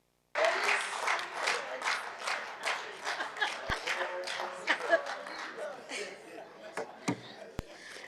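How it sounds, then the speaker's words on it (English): A parliamentary House sitting breaks into applause, with dense hand clapping from many members that starts abruptly, rolls on in uneven waves and gradually thins out into scattered claps. "the Premier were clapping hands"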